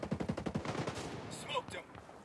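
Gunfire in the tactical shooter Ghost Recon Breakpoint: a quick burst of rapid automatic shots up front, then a fading tail with a brief shouted voice and game sounds.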